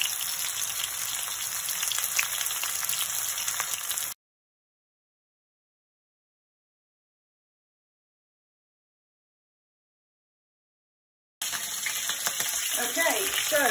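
Beef searing in a hot pan for Chinese chilli beef, a steady close sizzle that stops dead into a long silent gap and then resumes with crackling spatter.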